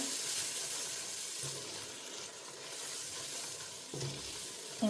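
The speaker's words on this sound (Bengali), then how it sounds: "আদা আর রসুন পেস্টটা আমি এই যে দিয়ে দিলাম দিয়ে আমি খুব বেশি একটা ভাজবো না জাস্ট একটু ভেজে নেবো" Ginger and garlic paste fries in a pan for khichuri, a bright, continuous sizzle with occasional stirring scrapes, steady and close without speech.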